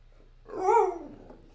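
A dog gives a single drawn-out, whining bark-like vocalization, close and clear, rising and falling over about half a second against a quiet room.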